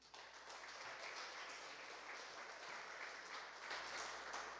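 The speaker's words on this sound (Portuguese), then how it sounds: "Aplauda Jesus." Sustained applause from a crowd, steady and dense clapping throughout, fairly far off.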